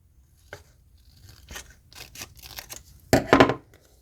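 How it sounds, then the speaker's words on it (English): Scissors snip through an old children's playing card in a few separate cuts, with a louder cluster of crisp snips near the end; close by, quiet background, no talking. "Cut the bottom off here."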